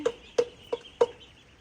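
Farm chickens clucking close by in front of a farmhouse, four short distinct clucks spaced evenly over a quiet background.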